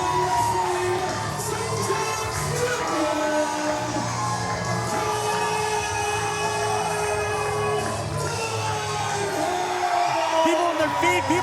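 A sold-out crowd at the Waco Convention Center roars for a wrestler at a championship bout, a continuous wall of cheering, whooping and yelling that stays loud throughout with shouting voices mixed in.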